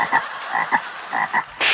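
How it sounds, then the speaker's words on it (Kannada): A frog croaks in short, rapid bursts, several croaks in quick succession, fairly close and clear, followed by a sudden burst of broadband noise at the end. "ಕಪ್ಪೆ"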